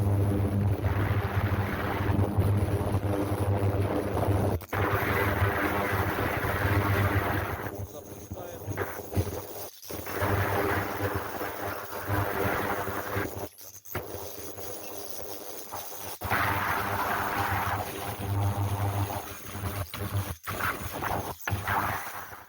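An ultrasonic bath cleans fuel injectors with a continuous buzzing, hissing drone that pulses and dips in places, running alone without talk.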